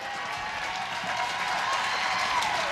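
Stadium crowd at a women's soccer final in the NWSL, Western New York Flash against Portland Thorns, cheering and clapping in a steady broad roar that swells slightly toward the end, no voices standing out.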